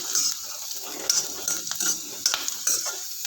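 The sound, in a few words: sautéing pirandai (adamant creeper) with tamarind in a pan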